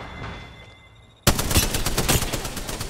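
Rapid automatic gunfire in the video game Apex Legends erupts abruptly after a quiet stretch, then continues as a loud, dense, sustained burst of shots to the end.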